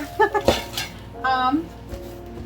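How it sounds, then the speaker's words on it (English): Metal lids for gallon glass jars are handled and knocked together, giving a few quick close clinks and clanks followed by a brief ringing metallic tone. "in this box we got the lids for the gallon jars I ordered last time"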